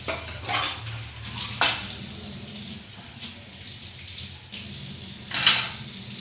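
Dishes and utensils are washed under running water at home, with clinks and clatters of metal pots and cutlery over the steady splash of the tap, close by and without talking.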